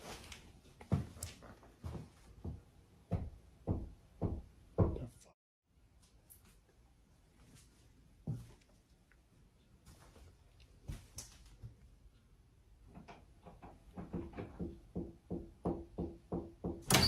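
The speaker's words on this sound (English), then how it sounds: "Out of nowhere, strange knocking sounds echo from somewhere deep within the basement." Strange knocking sounds in a basement, a run of sharp raps at the start, scattered knocks in the middle, then a quicker steady series of knocks near the end, fairly close and echoing.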